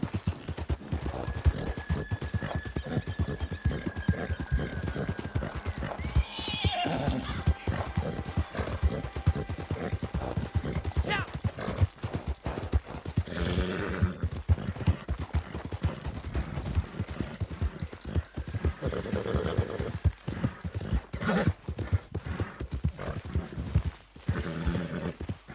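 Horse in Red Dead Redemption 2 galloping with rapid rhythmic hoofbeats throughout, breaking into a loud neigh partway through, with gunfire-like bursts and game effects layered in the background.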